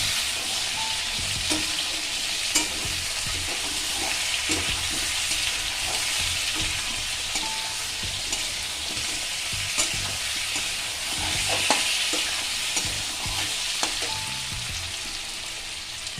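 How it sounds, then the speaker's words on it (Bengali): Chopped tomato frying with potato and pointed gourd in oil, a sustained close sizzle broken by repeated scraping and tapping of a spatula stirring the pan. "টমেটোটাকে কুচিয়ে রেখেছিলাম সেটাও দিয়ে দিলাম এবার সব দিয়ে আমি এটাকে ভালো করে ভেজে নিলাম"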